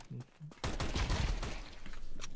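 Rapid SMG gunfire in Counter-Strike 2, a sustained loud burst following a brief voice, the firing rattling on for nearly two seconds.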